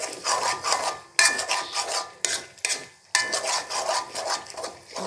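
Chopped small chilies frying in oil are stirred in a pan, with continuous loud sizzling and rasping spatula scrapes coming in several long strokes separated by brief pauses.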